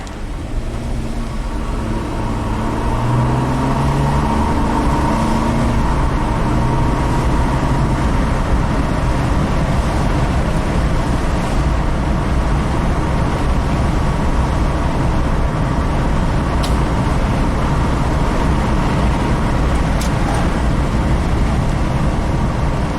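Jeep engine running steadily while driving after a cam timing repair, a constant low rumble and drone heard from inside the cabin, loud and unbroken with no talk over it.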